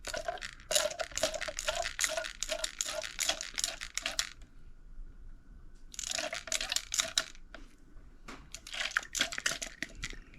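Hot water is pumped through West System epoxy resin pumps and spills out in rapid, repeated squirting and splashing bursts that pause briefly, then resume, close and fairly loud.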